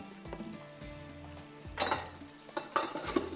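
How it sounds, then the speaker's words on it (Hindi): Garlic frying in a pan makes a soft sizzle with a couple of spoon scrapes and light clinks against the metal, quiet and close, with no one speaking. "यहाँ पर हमने डाल दिया है लहसुन। ठीक है, ये थोड़ा सा इसको करते हैं फ्राई।"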